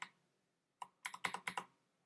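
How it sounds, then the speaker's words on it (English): Someone types on a computer keyboard close up in a quiet room: one tap, a pause, then a quick burst of clacking keystrokes. "I have to get used to this keyboard."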